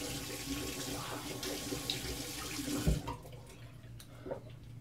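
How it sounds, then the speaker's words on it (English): Cold water runs from a tap into a bathroom sink after a shave, a steady close splashing hiss that stops abruptly partway through, leaving a quiet room. "and I'm gonna get the water nice and cold."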